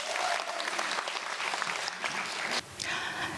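Audience applause at a Korean televised volunteer-story stage event, dense sustained clapping from a crowd in a hall, steady and moderately loud with a brief dip near the end.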